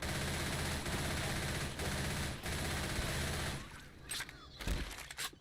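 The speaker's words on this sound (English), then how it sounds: "Doesn't help that the SMG in this game is also extremely loud." SMG fire in the video game Borderlands, a loud continuous rapid burst of gunshots for about three and a half seconds, then a few scattered shots and impacts.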